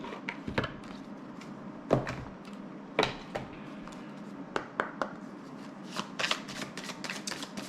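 Angel oracle cards are shuffled by hand in a run of crisp riffling and slapping bursts, with several sharper taps spaced irregularly and no voices.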